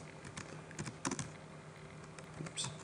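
Soft, quick tapping on a computer keyboard while text is entered in a WordPress editor, light irregular keystrokes in short bursts, quiet and close with no talking.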